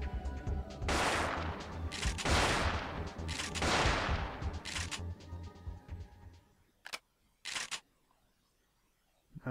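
Shotgun blasts in the PlayStation game Parasite Eve 2, several loud booming shots in an uneven rhythm, then two sharp isolated reports after a quieter gap, with no talking.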